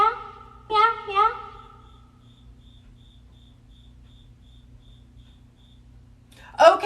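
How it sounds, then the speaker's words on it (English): Spider cricket chirping far in the distance, a faint, steady string of short high chirps repeating at an even pace, with a voice speaking near the start and a loud close sound at the end. "There's another cricket talking back to him far in the distance."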